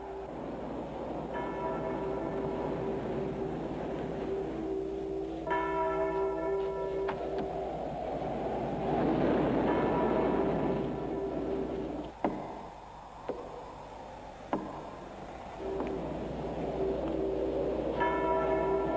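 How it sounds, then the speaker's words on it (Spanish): Church bell rung in a Spanish-language Western film, repeated bell tones sounding through a rumbling, noisy film soundtrack at moderate distance, with a few sharp knocks near the middle and no clear talk. "¡Dale en esa maldita campana!"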